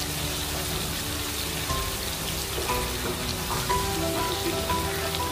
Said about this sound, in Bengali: ভালো করে এটাকে মিশিয়ে কষিয়ে নেবো আমরা।